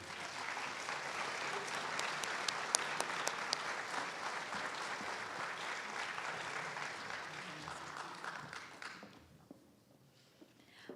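An audience at a Martin Luther King Jr. Day celebration applauds a student essay reader with sustained, steady clapping that fills the room, then fades to quiet near the end.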